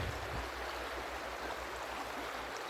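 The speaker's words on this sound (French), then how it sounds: "Voilà le ruisseau, d'en haut" A small stream flows below a path, heard from above as a steady, even rush of water that fills the clip without pause and with no voices.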